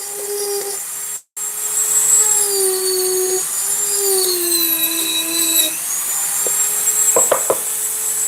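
A rotary burr grinding a deep groove gives a high, steady whine with shifting pitch, briefly cut off near the start, then running on with a few sharp clicks toward the end.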